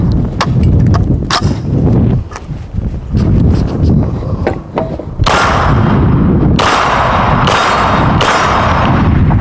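A Henry Homesteader rifle fires four loud, sharp shots at an outdoor range, each followed by a ringing decay. Clanks, handling thumps and wind buffeting on the microphone come before the shots.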